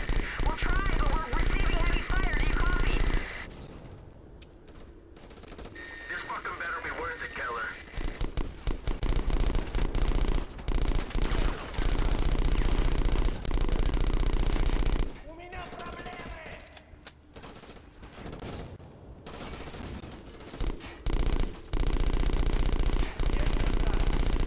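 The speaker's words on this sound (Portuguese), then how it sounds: "Estamos tomando tiro." Loud, rapid bursts of automatic gunfire in the video game Black rattle in long stretches, broken by a few quieter gaps, with a voice speaking at times underneath.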